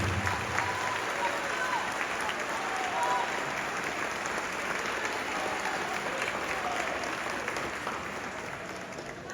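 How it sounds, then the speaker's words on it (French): An audience at a French-language speech gives sustained applause. Dense, even clapping fills the whole stretch and eases slightly toward the end. "Applaudissez-vous encore une fois, s'il vous plaît."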